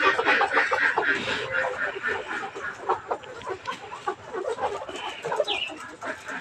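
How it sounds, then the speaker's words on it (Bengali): Caged farm chickens cluck and peck at nipple water drinkers, giving busy overlapping clucks and soft tapping near the listener throughout, with a person talking over them. "এই যে মুরগিটা ঠুকে ঠুকে পানি খাচ্ছে।"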